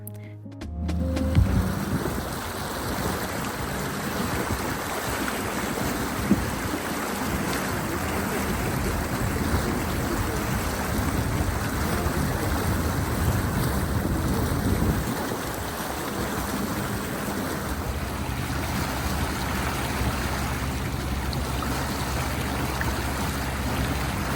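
Steady low rumble of a ferry engine with water rushing past the hull while crossing a lake near Hallstatt, continuous and even throughout, no voices.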